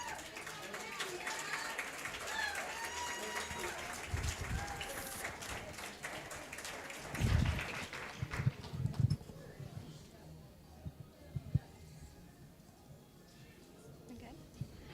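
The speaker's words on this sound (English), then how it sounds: "she deserves some applause here" A crowd applauds a junior pool champion after the green-tier final at a junior championship, with dense clapping for several seconds that fades into scattered claps and nearby voices.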